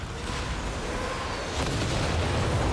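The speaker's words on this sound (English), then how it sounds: "It's such a long range thing, the LEIG. 160-ish range on this barrage." Distant LEIG and Nebelwerfer artillery barrage in Company of Heroes 3, a dense rumble of overlapping booms and bursts that grows heavier partway through, fairly faint with no voices over it.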